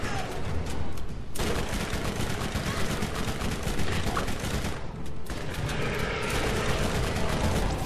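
Dense rapid gunfire from Borderlands rattles almost nonstop, loud and close, with two brief pauses between long bursts.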